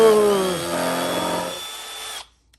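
A Milwaukee M12 cordless drill runs loud and close with a steady whine, its motor pitch falling as it bites, then holding before it cuts off abruptly near the end.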